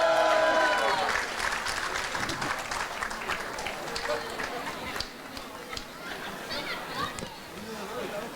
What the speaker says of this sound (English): Huge round of applause once more.